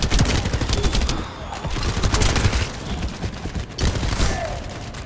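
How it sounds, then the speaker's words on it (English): Distant gunfire in a video game, a steady fusillade of repeated shots rolling through the whole stretch over dense background game noise, with brief voice traces. "I am shooting from afar, I hope you know."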